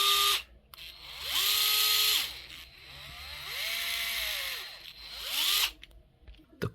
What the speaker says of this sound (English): This is one of my favorite drills when I'm working on electrical.